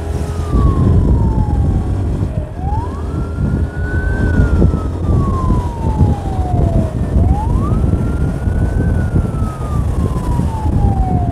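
A police patrol car siren wails loud and close in slow rising and falling sweeps, repeating twice over road and engine rumble during a cycling event.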